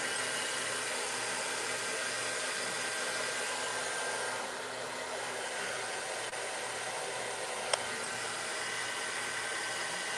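A hair dryer blows steadily at close range, a constant broadband whoosh with a slight dip midway and a brief click near the end.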